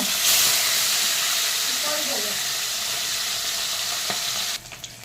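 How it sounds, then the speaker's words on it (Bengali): Live sarpunti pond fish fry in hot oil in a wok, a strong, continuous close sizzle and hiss that fades slightly, with a brief scrape and a couple of knocks near the end. "আমার কড়াইটা গরম হয়ে গেছে, তেলটা দিয়ে দিয়েছি। মাছটাকে আমি এখন ভেজে নেব।"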